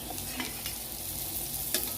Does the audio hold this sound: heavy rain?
no